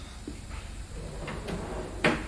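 A service drawer in a mechanic's rolling tool chest is pulled open. It makes a quiet sliding rasp that ends in a short, sharper clack, alone with no talk.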